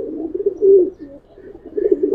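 Giribaz pigeons in a loft give low, rolling coos in several close, repeated bursts with brief pauses between them.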